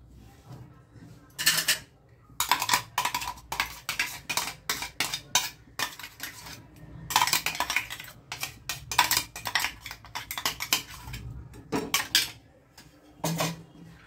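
Mango pulp being stirred into a pan for mango halwa, with a spoon scraping and clattering against the metal in quick, irregular bursts close by.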